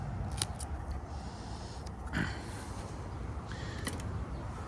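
Faint snips of scissors trimming dry leaf tips off a plant during transplanting, a few quiet separate cuts over low background hiss.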